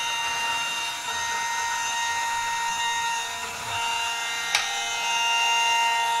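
A milling machine spindle cuts plastic with a steady high-pitched whine and a faint grinding edge, holding constant throughout with one brief click near the end and no talking.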